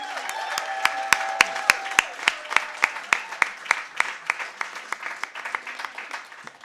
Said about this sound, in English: can we please give a round of applause to him?